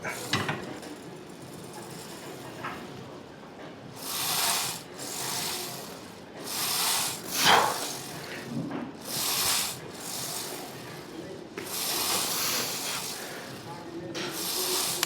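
A leg extension machine in a gym runs through repetitions, each one a loud burst of whirring, hissing mechanical motion. The bursts come in a steady rhythm with short pauses between them.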